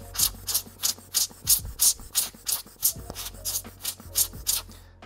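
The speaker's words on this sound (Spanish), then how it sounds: "lo primero vamos a soplar siempre con el lente mirando hacia abajo para que la gravedad elimine los objetos que están pegados" Rapid puffs of air from a Giotto hand blower cleaning dust off a Sony camera lens, about fourteen short, close hissing bursts in a steady pumping rhythm, with no talking.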